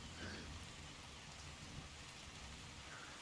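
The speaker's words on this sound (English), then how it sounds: "Can you please stop raining?" Steady rain falls in a continuous soft hiss during outdoor squad training, a faint and unbroken wash of sound with no clear individual drops.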